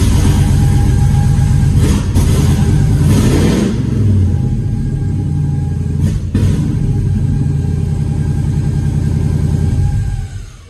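A 1957 Chevy engine runs loud and close, a rough rumbling idle with a thin squeal threaded through it and no talk, holding steady before easing off at the end.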